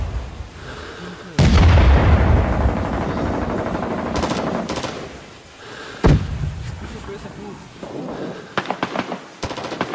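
Rising Storm 2: Vietnam battle audio with a loud burst of close gunfire and heavy booming artillery, then more scattered shots and sharp cracks, with voices speaking over the fighting.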